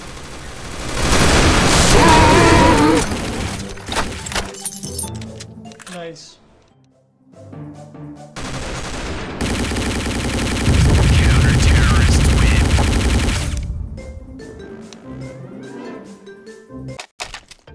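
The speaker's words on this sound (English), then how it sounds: "Shoot it." Bursts of rapid automatic gunfire ring out in a Counter-Strike zombie escape map based on Crash Bandicoot, loud sustained volleys in two long stretches separated by quieter gaps, with players talking over them.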